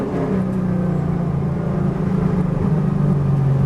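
A V8 race car engine pulls hard under acceleration in third gear on track, a loud, continuous low growl with a steady droning roar throughout, close and dominant.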